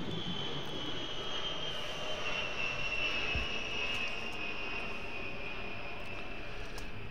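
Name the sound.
airplane flying over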